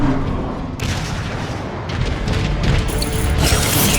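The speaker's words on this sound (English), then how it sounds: "Optimus, there are 3 warp cannons shelling the Ark." Warp cannons shelling the Ark in a Transformers video game: a dense, loud barrage of booming blasts and crashing impacts, continuous and close, with no speech.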